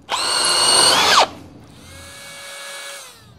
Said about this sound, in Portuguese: Eu senti que a broca foi escorregando um pouco. Deve ter alargado um pouco o furo.